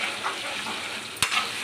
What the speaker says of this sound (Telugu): ఇప్పుడు 1/2 స్పూన్ అల్లం వెల్లుల్లి పేస్ట్ వేసుకొని ఫ్రై చేసుకోవాలి పచ్చివాసన పోయేంత వరకు.